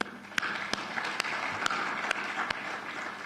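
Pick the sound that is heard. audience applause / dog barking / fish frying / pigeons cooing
audience applause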